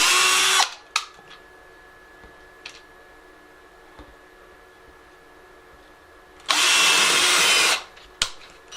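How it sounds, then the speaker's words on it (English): A handheld power drill whirs in two loud bursts, one short at the start and a longer one later, boring holes in snowman door-hanger craft pieces, with quiet clicks and handling in between. "drill the holes in the other two"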